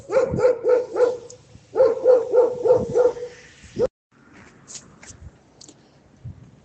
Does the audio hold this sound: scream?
no